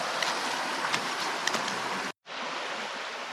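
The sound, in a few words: creek flowing on Vancouver Island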